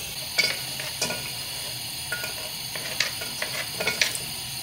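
Food frying in olive oil in a wok with paprika powder, a steady sizzle broken by scraping stirring strokes and clinks of the utensil against the pan.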